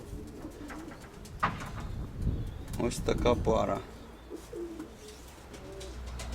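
Steel-coloured white-tailed pigeons, a breeding pair in a loft, coo softly in the background while someone talks over them.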